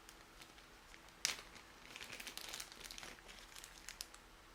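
A quiet scraping and crinkling of a little brown candle dye being shaved off, a brief sharp scratch followed by a run of soft, dry scratches, close and faint with no talk.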